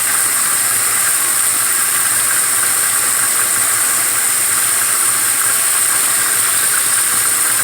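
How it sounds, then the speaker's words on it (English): GE GTW750CSLWS top-load washing machine with its tub spinning down after washing jeans, a steady loud whirring hiss with a high whine, continuous and close with no voices. "they can wait for the tub to stop spinning"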